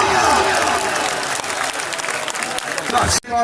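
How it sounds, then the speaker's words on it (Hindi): Loud, dense audience applause at a village gathering ahead of a Punjab, Pakistan tournament, clapping steadily for about three seconds before cutting off abruptly. "जोरदार तालियां"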